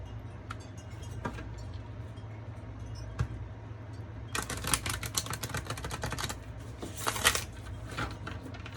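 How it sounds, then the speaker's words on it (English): Crisp riffling bursts of tarot cards being shuffled, a couple of brief flurries against a steady low hum, fairly close. "One more shuffle here."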